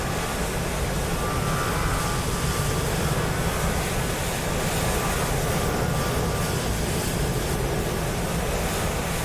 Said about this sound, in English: There's an EasyJet there taking off.